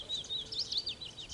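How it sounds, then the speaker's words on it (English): Birds singing outdoors, a steady stream of high, thin chirps and warbling phrases that run continuously at moderate distance over a quiet background. "So the birds are very happy"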